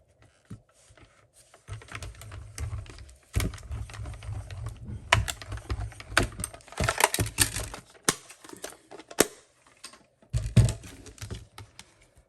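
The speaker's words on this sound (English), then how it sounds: "So let me get my mini Stampin' Cut and Emboss machine." A mini Stampin' Cut and Emboss machine cranks a die through Flirty Flamingo cardstock, giving a dense run of clicking, crunching mechanical rattles close by after a quiet start, with a short pause and then a final burst of grinding.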